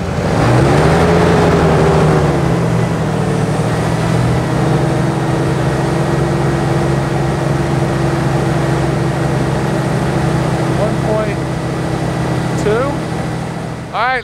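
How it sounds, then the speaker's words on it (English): A diesel truck engine idles loud and close, its low steady rumble holding throughout with only slight rises in pitch, and a voice speaks briefly over it. "let's go ahead and rev it up."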